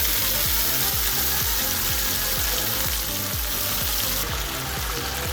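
Vegetables sautéing lightly in a pan for a gola kabab dish, a steady loud sizzle with rhythmic scraping and stirring strokes throughout, no voices.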